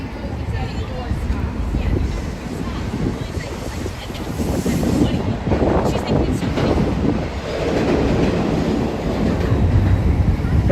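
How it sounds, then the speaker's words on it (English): A New York City R and W subway train rumbling beneath a street grate near East 10th Street and Broadway, a steady low roar throughout, mixed with street noise and wind. "That's a train you hear."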